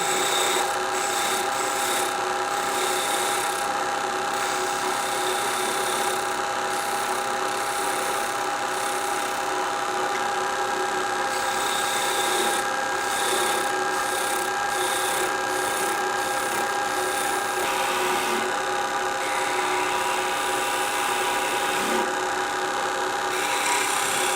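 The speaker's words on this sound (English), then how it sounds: "And take my skew. Smooth it out." A skew chisel smoothing a spinning wooden bell ornament on a lathe gives a continuous, loud rasping hiss with a steady motor hum beneath, close up and unbroken for the whole stretch.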